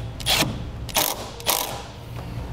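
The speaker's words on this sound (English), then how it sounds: "Put the nut back on." A 12 millimeter nut is ratcheted back onto the positive battery post stud over a ring terminal during a 2014 vehicle trailer wiring install, giving three short close ratchet bursts over a low steady hum.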